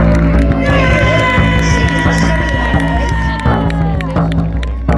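Crowd at an outdoor history festival at a castle cheering and shouting throughout, with a dense, steady wash of many voices and a few claps, loud and close.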